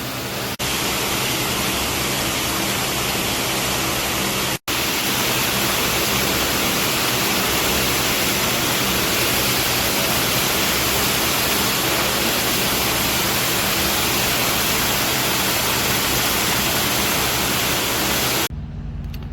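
Water gushing and spraying loudly inside an empty refrigerated trailer as it is washed out, a steady broadband rush with no speech, briefly cut near the start and stopping just before the end.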